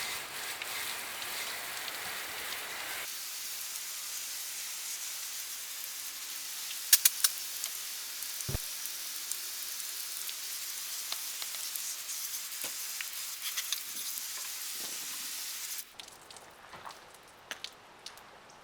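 Water sprays in a steady hiss over a bike chain and drivetrain, sustained for most of the stretch, then cuts off into a few scattered drips and light clatters near the end.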